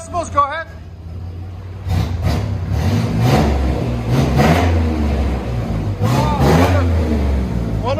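Revving 1994 GMC Sierra 1500 SLE pickup with a 4.3L V6 and Flowmaster Outlaw exhaust, loud repeated throttle blips over a rumbling idle, with people talking between revs.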